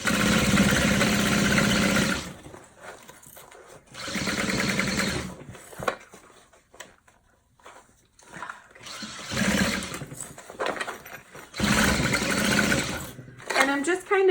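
A sewing machine stitches fabric for a tote bag in several loud, close whirring runs of about two seconds each, separated by quieter stretches where a person talks and handles the fabric.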